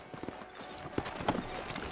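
Horse hooves clip-clop in the Red Dead Redemption video game, a few quiet, quick hoofbeats over a soft background in a brief moment.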